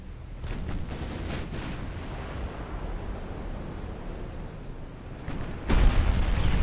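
Battleship big guns fire in a naval battle in the game Ultimate Admiral Dreadnoughts, a deep rumbling barrage of distant booms with a heavier, louder blast near the end.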